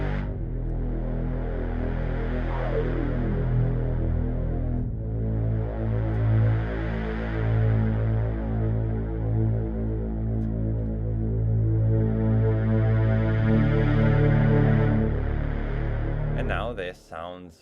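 Sustained analog-style synth pad built in the Surge VST synthesizer, thickened by a distortion effect, holding dense steady chords with a low droning hum for the full length, loud and continuous, changing chord partway through, with no talking over it.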